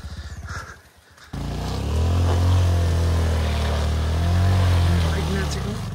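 Motorcycle ridden over a rough, bumpy dirt road, the engine droning loud and close with uneven swells as the bike jolts, after a brief broken stretch at the start.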